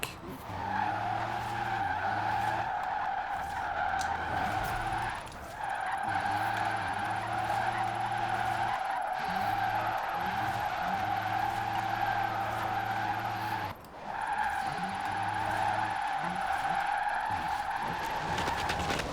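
Electric Rimac C Two hypercar drifting in Forza Horizon 4, tires squealing loudly and almost continuously over a whining motor, with two brief breaks as the slides reset.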